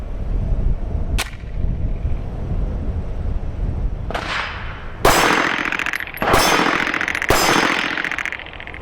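A PSA Dagger Compact pistol fires reloaded ammunition at a shooting range: five loud, sharp reports with irregular spacing, the last three closer together, each ringing out over quiet background noise.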